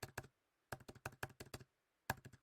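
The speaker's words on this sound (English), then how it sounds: "Sorry for the keyboard smashing sound." Fast bursts of keyboard smashing on a computer keyboard, several clusters of sharp clacking keystrokes separated by short silences, close and fairly loud with no talking.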